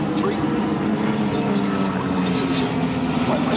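A propeller-driven RV homebuilt airplane with a 200 to 250 horsepower engine flies at the EAA AirVenture airshow in Oshkosh, Wisconsin, its steady engine drone continuous throughout while an announcer talks over it.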